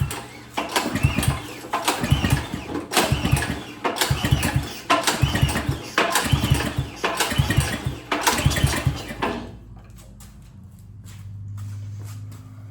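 Snowblower engine being pull-started with the throttle held wide open, about six rhythmic cranking bursts from repeated rope pulls, fairly close, then it stops and a faint low hum remains.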